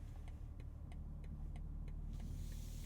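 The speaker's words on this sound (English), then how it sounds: "Turn signal sound." Inside a running 2023 BMW M2, the turn signal clicks in an even rhythm, about three ticks a second, over a constant low engine hum.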